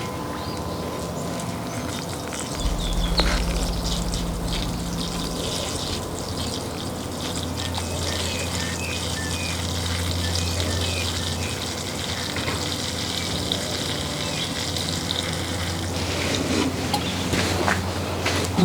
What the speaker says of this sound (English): let me water it before I put it up there